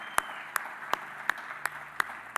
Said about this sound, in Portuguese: Vamos aplaudir Jesus na vida desses irmãos, irmãs.